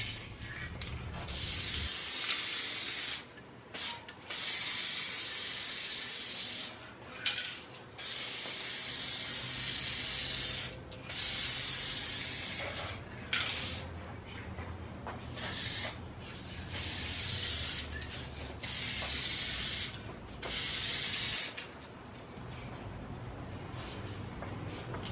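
A spray gun lays a second coat onto plastic car moldings in repeated hissing bursts of a few seconds each, separated by short pauses, recorded up close without speech.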